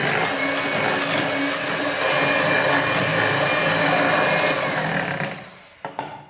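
An electric hand mixer beating butter for butter cookies, a continuous whirring motor hum that holds steady for several seconds, then slows and cuts out with a couple of clicks at the end.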